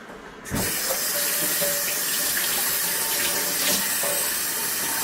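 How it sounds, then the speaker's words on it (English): A tap opens after a brief pause, and water gushes steadily and loudly into a basin for several seconds. "Got water running, put the other one."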